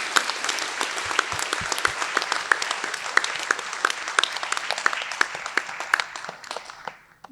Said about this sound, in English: join in congratulating you with a very, very warm round of applause